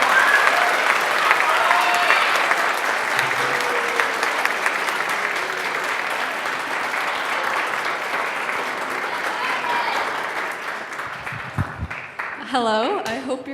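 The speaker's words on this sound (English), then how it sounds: "Let's give a nice round of applause to our seniors" Audience applause at a spring band concert, sustained clapping from a full crowd that slowly thins toward the end, where a voice begins speaking over it.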